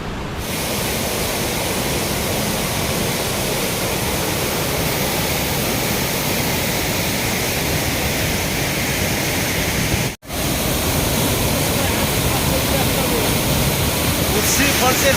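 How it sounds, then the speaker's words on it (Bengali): Usri Falls, a waterfall in Giridih district of Jharkhand, sends up a loud, steady broadband roar of falling water heard close up. It runs unbroken apart from one brief dropout partway through. "এখান থেকে জলের গর্জন, প্রচণ্ড জলের গর্জন।"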